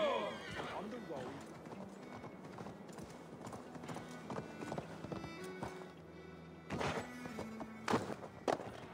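A horse gallops in Assassin's Creed Valhalla, with rapid clip-clop hoofbeats, thuds and a brief whinny, underneath game speech and a player talking.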